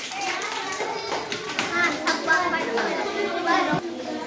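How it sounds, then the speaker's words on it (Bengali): Children in a primary school classroom clap for a classmate, a quick scattered patter of small hands mixed with lively kid chatter and voices throughout. "আজিজুলের জন্য একটা জোরে হাততালি হবে।"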